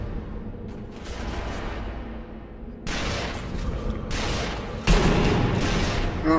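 Gunfire in the video game Sniper Elite V2: booming shots and heavy bursts stack into loud, dense volleys in a couple of sharp onsets over rumbling background.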